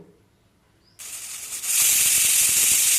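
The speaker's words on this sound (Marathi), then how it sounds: "आणि कुकरच्या तीन ते चार शिट्ट्या करून घेऊ" A pressure cooker cooking black ghevda beans lets off steam with a sudden loud hiss that grows into a rushing, whistling jet, close and sustained after a quiet start.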